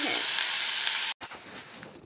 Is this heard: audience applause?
no